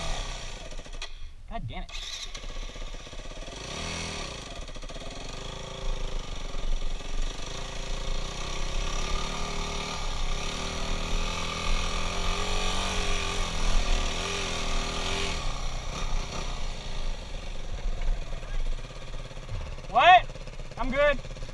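A motorcycle engine cuts out abruptly, then fires back up and runs with a rough, uneven idle and rising revs for about twenty seconds, while a man curses briefly.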